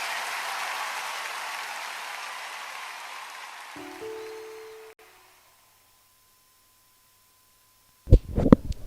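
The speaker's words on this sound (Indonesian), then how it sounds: "Berikan tepuk tangan yang terbaik bagi Tuhan kita." A church congregation at a Sunday worship service claps together in broad, steady applause that fills the room, then fades out about halfway through, leaving near silence before a brief burst of sound at the end.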